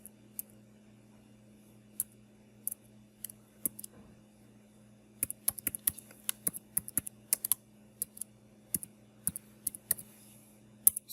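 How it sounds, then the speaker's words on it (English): Someone types slowly on a computer keyboard, producing sparse, quiet key clicks with a few faster bursts over a faint steady hum, and no one speaks. "sorry, I typed so slow."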